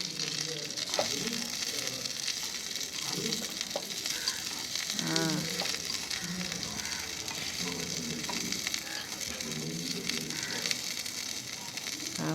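Curry leaves fry and crackle in a pan while being stirred, with a steady sizzle and scraping throughout and occasional voices talking faintly.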